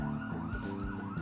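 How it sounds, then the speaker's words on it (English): An ambulance siren passing outside, loud and continuous with a wailing tone, alone without talk. "here comes the siren"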